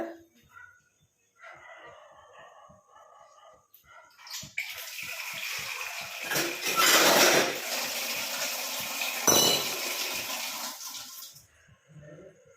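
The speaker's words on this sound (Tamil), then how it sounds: "ஒரு 3/4 டம்ளர் அளவுக்கு தண்ணி சேர்த்துக்கோங்க." Water pours steadily into an iron pan for several seconds with a hissing, splashing rush that swells and then stops, with faint clinks of metal before and after.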